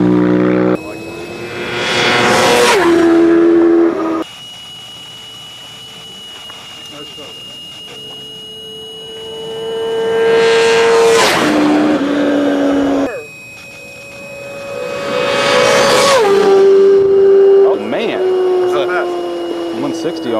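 High-speed race cars blast past one after another, three loud passes that swell and drop with falling pitch, separated by quieter stretches of idling engine drone, with some voices in the background.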